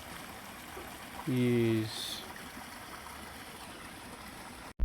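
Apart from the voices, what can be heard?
flowing clean stream water in Kenya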